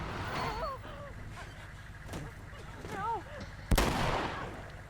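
Gunfire in the video game The Last of Us Remastered: one sharp, loud shot cracks out near the end, after strained grunts and gasping voice sounds over a low rumbling background.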